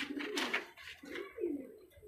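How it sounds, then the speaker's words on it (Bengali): A pair of pigeons coo softly nearby at a loft as they are let out to fly, three short throaty bursts in quick succession, quiet and alone. "দুটো পায়রা ছেড়ে স্ট্যান্ডিং দেখাচ্ছি"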